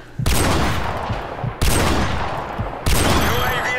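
Sniper rifle shots in Modern Warfare Remastered, a 1v1 cage match: three loud, sharp reports spaced about a second and a half apart, each with a long ringing tail.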